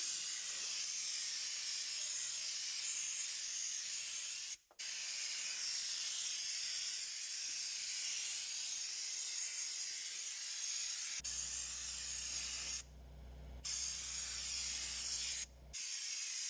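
Fluid Film undercoating hisses from a spray can aimed under a truck from ground level, in long continuous bursts with brief pauses between them. Near the end a low droning hum runs beneath the spray.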